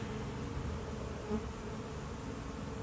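Honey bees buzz in a steady, dense drone throughout a hive inspection of a colony holding sixteen frames of bees and nine of brood, the swarm sound close and continuous with no break.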